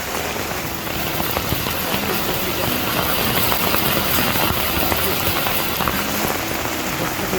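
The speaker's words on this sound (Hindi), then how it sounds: "बारिश बहुत ज़्यादा हो रहा है" Heavy rain pours down at a monastery in Gangtok, a dense, loud, continuous roar of water that holds steady throughout with a faint engine-like rumble beneath it.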